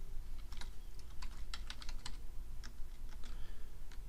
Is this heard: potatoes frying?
no